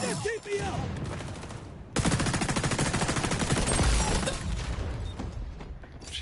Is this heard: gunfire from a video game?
yes